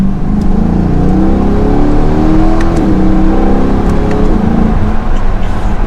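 A 2022 Chevrolet Corvette C8 R Edition convertible in track mode accelerates onto a highway, its engine droning loud and close with a smooth, rising tone, heard from inside the car.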